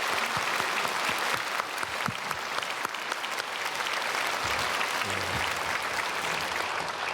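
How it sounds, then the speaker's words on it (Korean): A church congregation at a Sunday worship service breaks into steady, sustained applause to welcome newly registered members, a dense wash of clapping filling the room at even loudness throughout, with no talking over it. "우리 반갑게 박수로 맞이하겠습니다"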